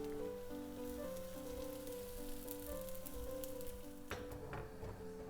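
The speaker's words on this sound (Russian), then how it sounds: "Тесто выливаем на сковороду, оно очень хорошо растекается," Thin water-based pancake batter sizzles in a hot oiled pan, a soft continuous crackle under steady background music, faint and close.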